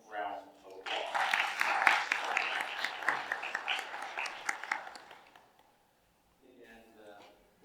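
Audience at a park district celebration gala applauding warmly, a dense burst of clapping that swells then tapers off over several seconds, followed by a brief quiet voice.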